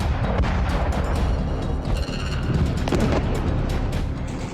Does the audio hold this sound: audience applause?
no